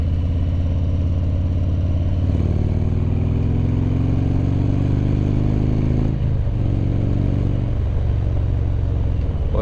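A Harley motorcycle fitted with Chrome Works 4.5 pipes and a stage one upgrade idles close by in a deep, loping rumble, with a couple of small throttle blips in the middle and no voices.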